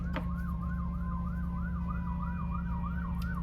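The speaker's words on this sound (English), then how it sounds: "We have sirens in the background, y'all." A siren wails up and down in a regular rising-and-falling cycle, moderately distant, over a constant low engine hum.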